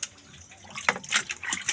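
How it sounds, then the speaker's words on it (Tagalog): Water flowing and splashing in short gurgling bursts, close by and moderately quiet, growing busier toward the end. "nag-agas ang tubig, mahumanit sa baril, nag-agas ang tubig"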